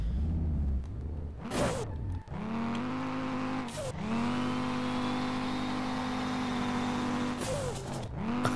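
A drift-tuned Audi TT in the SLRR racing game, its turbo spooling over a steady revving engine with brief whooshes as the throttle lifts and comes back on, loud and close, with no voices.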